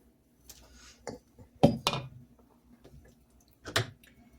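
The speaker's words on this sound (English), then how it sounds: "Come back over here and put the frying pan back on." A frying pan set back down on a stovetop while scrambled eggs are being made, giving a few separate metallic clanks and knocks at close range, with no talk.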